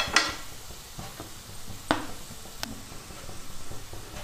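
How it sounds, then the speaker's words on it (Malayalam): Spices, chili powder with turmeric and coriander powder, roast in a pan for a Kerala meatball curry, a soft low sizzle broken by a few sharp scraping and stirring clicks against the pan. "ഇപ്പം മുളക് പൊടി ഇട്ട് കൊടുത്തിട്ട് ഇനി നമുക്കതൊന്ന് നന്നായിട്ടൊന്ന് മൂപ്പിച്ചെടുക്കണം"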